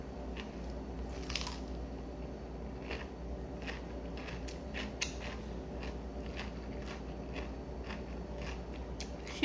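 A slice of cucumber pickled in vinegar and beet juice is chewed, giving sparse, faint crisp crunches and clicks over a low, steady background hum.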